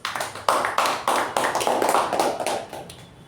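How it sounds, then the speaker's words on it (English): A small audience at a Toastmasters meeting claps for about three seconds, steady close-up hand claps that swell at the start and slowly fade. "let's give Toastmaster Ajay a good round of applause"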